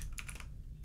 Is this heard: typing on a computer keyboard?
yes